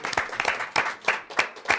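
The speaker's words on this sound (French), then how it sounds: "On applaudit s'il vous plaît Mathias" Scattered applause from a live show audience: a few sparse, uneven claps at moderate distance, fairly faint and irregular over less than two seconds.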